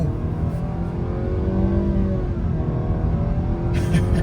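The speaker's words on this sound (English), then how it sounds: "one last little acceleration here in the Sentra sport mode." 2025 Nissan Sentra accelerating in sport mode, engine note climbing steadily from inside the cabin, a loud continuous drone with rising harmonics and no talk.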